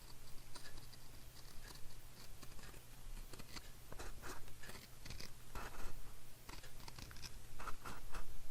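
Scissors cutting the tops off paper pieces for a vintage floral papercraft project: soft, irregular snips and rustles sit close and quiet over a low steady hum, with no talking.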